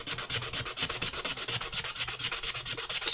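Fine-grit sandpaper rubbed by hand over a wedge, a close, steady rasp of quick, even back-and-forth strokes repeating without pause.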